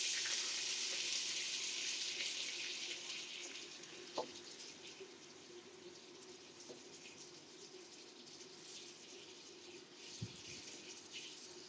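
Onion and garam masala spices sizzle in a pan as ginger-garlic paste goes in for a spiced beef liver bhuna. A soft, steady hiss carries on, broken by a couple of faint clinks.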